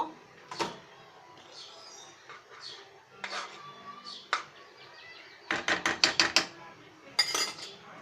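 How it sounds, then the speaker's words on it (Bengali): A cooking pot is covered with its lid while chocolate semolina cooks, giving a short burst of sharp metallic clinks and rattles near the end, after quieter kitchen clatter and light handling sounds. "আমি এখন ঢাকনাটা দিয়ে ঢেকে দিব"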